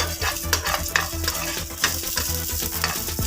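Ingredients for a coriander leaf chutney fry in a pan until lightly golden, with a steady sizzle broken by quick, rhythmic scrapes of a spoon stirring them close up.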